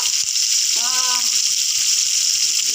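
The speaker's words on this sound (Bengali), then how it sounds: "এখানে আমি মাছগুলো ভাজা করে নিচ্ছি" Fish fry in a pan over a medium gas flame, a steady close hiss and sizzle throughout, with a brief tonal beep in the middle and someone speaking over it.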